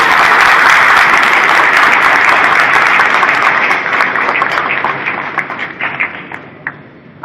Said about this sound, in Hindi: एक बार सब लोग आप लोग ताली बजा के उनका आभार व्यक्त करें